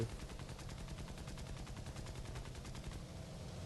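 Rapid automatic gunfire rattles in a steady stream while shooting at an enemy in a flight video game, dense and continuous at moderate loudness, thinning out near the end.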